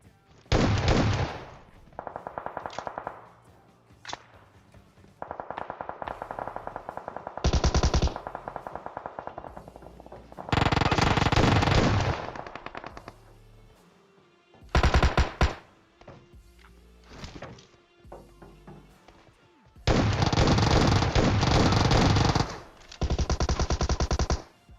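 Gunfire in the PUBG video game, with an S12 shotgun in use, comes as loud bursts of automatic fire and single shots scattered between quiet gaps.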